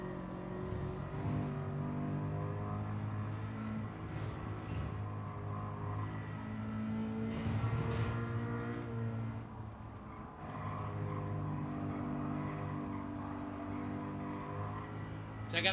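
A race car engine in Gran Turismo 7 drones steadily at high revs with a strong harmonic whine, rising and falling as the throttle is worked, close and continuous throughout.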